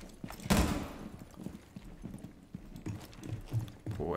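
Teammates run in the tactical shooter Rainbow Six Siege, their quick, uneven footfalls thudding at moderate distance for about four seconds, with a sharper, louder impact near the start.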